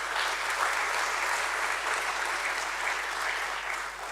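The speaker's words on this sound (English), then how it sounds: "So I think deserves an applause." Steady applause at a stock exchange listing ceremony for Arkade Developers, a room of people clapping continuously at moderate volume with a faint hum underneath.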